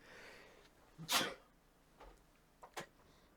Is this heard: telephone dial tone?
no